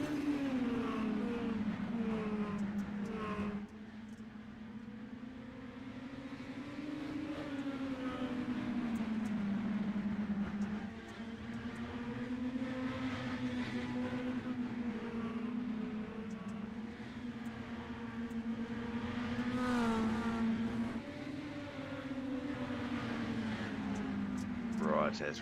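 Mini stock race cars in the iRacing sim run a lap down a back stretch, a steady droning engine note rising and falling through shifts, with a commentator talking over it continuously.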